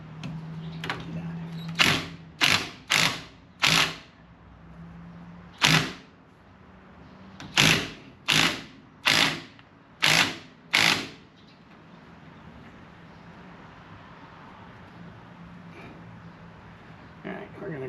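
A hand wrench or ratchet snaps through about a dozen sharp, evenly spaced clicks in two groups while tightening a bolt on a car, close and crisp, then a quiet stretch of faint background noise.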